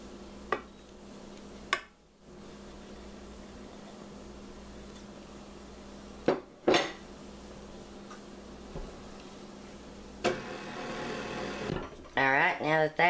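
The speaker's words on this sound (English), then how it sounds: "turn my blender on low, and blend that till it's incorporated" An electric mixer on low blends flour into pound cake batter in a bowl, a steady faint motor whir with occasional clinks and scrapes, rising louder near the end.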